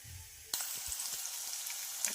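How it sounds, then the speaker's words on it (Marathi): Ginger, green chili, chopped onion and garlic dropped into hot oil for a chickpea usal: a sudden loud sizzle bursts in after a quiet moment and continues as a steady close hiss, with a few faint stirring clicks. "आलं हिरवी मिरची बारीक चॉप केलेला कांदा आणि लसूण फ्राय करायचा आहे"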